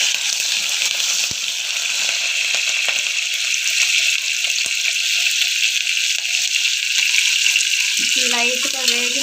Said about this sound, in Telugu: ఆవాలు, చిల్లీ అవి కూడా వేస్తున్నాం ఫ్రెండ్స్